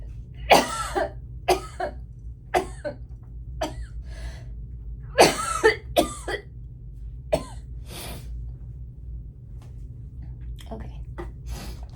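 Repeated coughing fits from a woman getting ready while applying makeup primer, with several sharp bursts in quick clusters spread over the stretch, close and fairly loud indoors.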